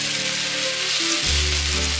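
Sliced fish cakes hiss and sizzle as they hit a pan of melted sugar for stir-frying a Korean side dish, a steady loud crackle with a low rumble swelling near the end, no talking.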